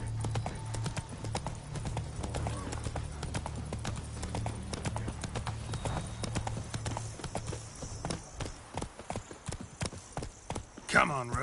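Roach the horse trotting in The Witcher 3 game, a steady run of crisp hoof clip-clops close by, with a voice speaking briefly over them.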